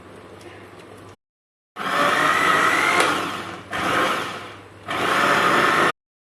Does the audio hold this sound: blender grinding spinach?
yes